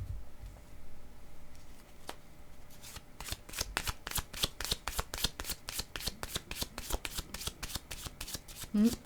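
Tarot cards being shuffled close up, starting with soft scattered riffles and building into a quick, steady run of crisp card flicks, with faint talking in the background.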